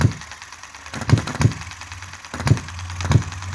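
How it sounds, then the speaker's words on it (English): A Chinese model hit-and-miss engine running alone, firing in loud, close, irregularly spaced thumps with a steady mechanical whir between the beats. "And get that engine running so nicely."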